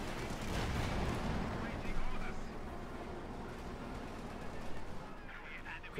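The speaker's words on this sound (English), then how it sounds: "Quick few shots there, and both of them just almost hit the Panzer, but both miss." Tank cannon and gun shots boom through a Company of Heroes 2 battle between Shermans and a Panzer IV, with machine-gun fire, under steady dense battle noise and a voice talking over it.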